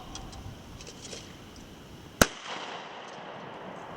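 A single sharp shotgun blast at a trap shooting range, one loud close report with a brief echoing tail fading into outdoor background noise.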